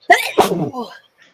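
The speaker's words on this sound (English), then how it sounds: "Yeah, it was a second sneeze." A single loud, close sneeze bursting out abruptly, followed by a short trailing breath.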